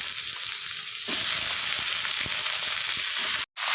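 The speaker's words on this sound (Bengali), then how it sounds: "পেঁয়াজগুলো ভাজা হয়ে গেছে, এবার কুমড়োটা আর লঙ্কাগুলো দিয়ে দেবো।" Pumpkin and dried red chillies land in hot oil with fried onion, bursting into a louder, steady close sizzle with occasional stirring scrapes and a brief break near the end.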